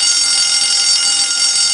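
A fire alarm rings continuously and loudly, a steady high-pitched electronic tone held without a break throughout, with no voices over it.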